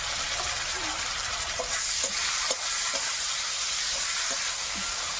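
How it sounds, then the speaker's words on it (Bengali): Chopped tomato with salt and turmeric frying in oil for a fish curry, a steady sizzle with a few soft stirring scrapes, close and continuous with no talking. "হলুদ দিয়ে দেবো, দিয়ে একটু ভাজা ভাজা করে নেব"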